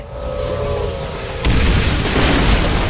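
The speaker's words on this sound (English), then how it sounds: "Explosion signifier detected. Explosion imminent." A video-game explosion in Bodycount on PS3: a steady rumbling hum builds, then a loud, sudden boom hits midway and rolls on as a dense, noisy roar to the end, with no talking.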